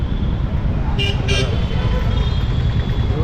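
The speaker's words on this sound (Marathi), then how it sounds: "पाणीपतचं ट्रॅफिक" Heavy road traffic in Panipat rumbles steadily close by, and two short car horn toots cut through the dense engine noise.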